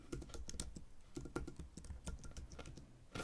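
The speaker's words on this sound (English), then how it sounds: "you can type in a lot of stuff in here" Quick bursts of keystrokes on a computer keyboard as a search term is typed, a close, soft, irregular clatter of key presses heard alone.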